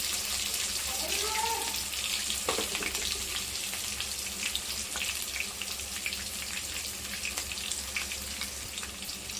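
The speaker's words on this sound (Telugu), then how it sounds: "ఇప్పుడు నేను ఆయిల్ వేడైందంటే ఇందులో నేను ఆనియన్స్, పచ్చిమిర్చి," Onions, green chillies and curry leaves dropped into hot oil give a loud, steady hiss and sizzle that holds throughout, with a few brief clatters and a voice speaking over it.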